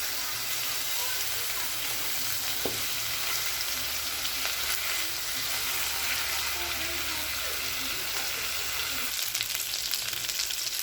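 Chicken, cooked with pineapple, fries in a pan with a steady, dense sizzle and crackle throughout, fairly close and unbroken from start to finish.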